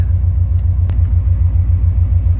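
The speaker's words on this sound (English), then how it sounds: "I've had the car idling for, I don't know, like 10 minutes now" A racecar engine idles steadily, a low, even rumble with a regular pulsing beat that holds close and loud throughout, with one brief sharp click partway through.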